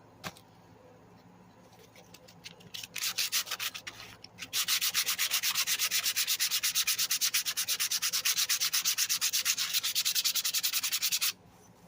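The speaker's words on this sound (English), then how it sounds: "We're just going to go straight to sandpaper now." Sandpaper rubbed briskly by hand over a mower engine part, a fast steady rasping stroke pattern that starts softly, then grows loud and continuous for several seconds before stopping.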